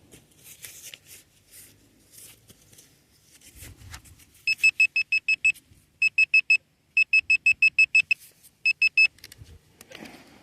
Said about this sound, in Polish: pinpointer włączamy i sprawdzamy